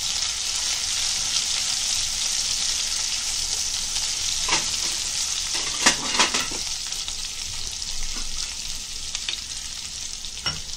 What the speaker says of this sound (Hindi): अभी राई और जीरा डालेंगे।